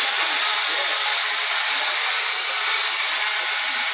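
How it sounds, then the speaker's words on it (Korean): Solo Pro 228 RC helicopter flying close by, a loud, steady high-pitched whine of motor and rotor with a bright tonal hum, unbroken throughout. "좀 큰 헬기는 좀 안정적으로 좀 착륙을 하는 것 같습니다"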